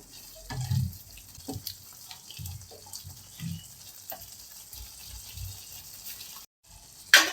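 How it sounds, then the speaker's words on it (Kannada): Water splashes into a pan of palak paneer masala in several short, uneven bursts, with quiet pauses between them. "ಸ್ವಲ್ಪ ನೀರು ಹಾಕ್ಕೊಂಡಿದ್ದೀನಿ"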